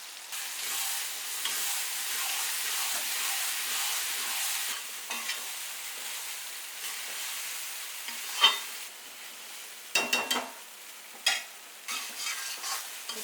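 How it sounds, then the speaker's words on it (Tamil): Onion and ginger-garlic paste sautéing in oil for prawn thokku, a steady close sizzle running throughout, joined later by a few sharp scrapes and clinks of a spoon against the pan. "இப்போ இதையும் சேர்த்து நம்ம வதக்கணும்"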